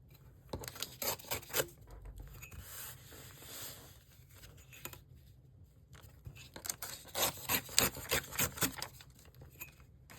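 A narrow strip of paper is torn off by hand for a craft notepad, heard as two stretches of close, dry ripping and rustling pulses separated by a quieter pause, with no talking.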